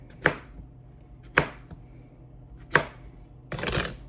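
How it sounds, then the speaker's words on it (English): Three sharp knife chops through potatoes on a cutting board, spaced about a second apart, followed by a brief scraping rustle; close and distinct. "I'm just going to cut them in pieces about that big."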